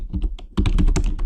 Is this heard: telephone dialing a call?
no